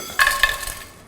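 Biryani masala spices with fennel and nutmeg roasting in oil for Kolkata-style chicken biryani, a brief metallic clink and scrape of a spoon against the pan over a faint sizzle, close by.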